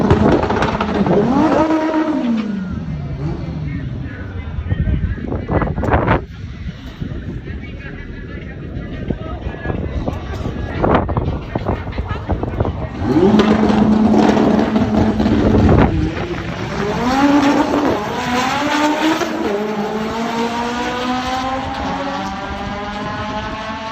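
A drag race car makes a pass at Rockingham during an import face-off event, its engine roaring loud and close with pitch climbing through gear changes under heavy wind buffeting and voices.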